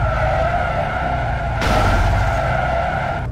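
Car engine revving with tyres skidding and squealing in the Border Force video game, a steady loud drone that swells into a harsher skid burst midway with no talking.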